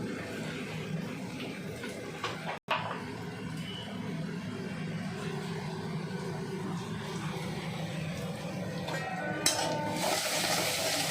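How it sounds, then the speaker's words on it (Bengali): Onions fry in a pan with a steady, moderate sizzle that continues throughout, broken by a brief dropout and occasional stirring scrapes, with a louder hiss toward the end. "পেঁয়াজ ভাজা ভাজা হোক, পেঁয়াজ ভাজা হতে একটু সময় লাগবে"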